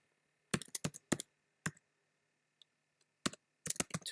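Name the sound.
typing on a computer keyboard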